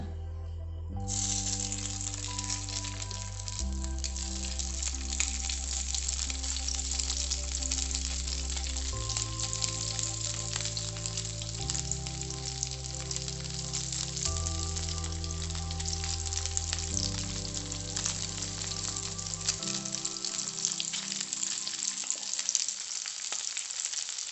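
Pathrode slices frying in hot coconut oil, a loud, continuous crackling sizzle that starts abruptly and holds steady under soft background music.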